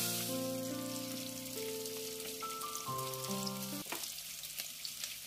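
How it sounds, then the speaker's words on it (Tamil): Mustard seeds and cumin splutter and crackle in coconut oil in a cast-iron pan, a steady close sizzle with scattered pops beneath soft background music, no voices. "பீட்ரூட் ஸ்டர் ஃப்ரை பண்ணுறதுக்காக தேங்காய் எண்ணெயில் கொஞ்சம் கடுகு சீரகம் சேர்த்து பொரிய விடுறேன்."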